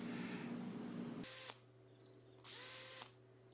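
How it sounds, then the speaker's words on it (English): A power drill pre-drills holes in MDF during a DIY Bluetooth boombox build, making two loud, high-pitched whirring bursts of about a second each, separated by a quieter pause with a low background hum. "You're gonna wanna pre-drill the holes."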